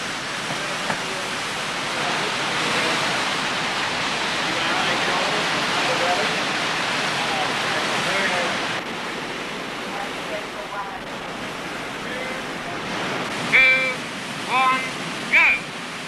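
Raging whitewater rapids at the outlet of a powerhouse on a canoe slalom course, a loud steady roaring rush of water throughout, with a few brief bird-like chirps near the end.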